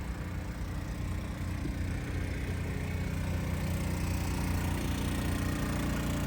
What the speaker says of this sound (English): Got the generator going.